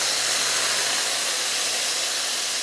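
Chicken sizzles while stir-frying in a wok, a loud, steady hissing fry that holds constant from start to finish with no talking.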